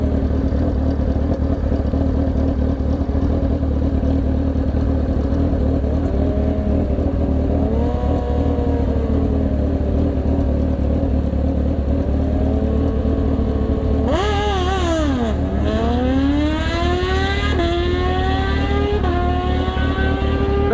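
Drag racing motorcycle on a drag strip: a steady loud engine roar whose pitch climbs, then a sharp rise through rapid revving and gear changes near the end, close and dominant with no talking.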